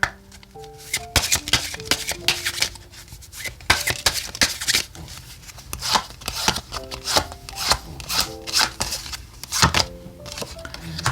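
Oracle cards are shuffled and handled in a repeated run of dry papery slaps and rubs, close and fairly loud, with uneven rhythm and soft low tones in the background.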